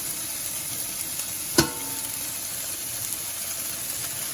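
Fennel and fenugreek seeds fry in hot oil in a pan, a steady soft sizzle with one sharp crackle or pop as they drop in, fairly close and with no talking.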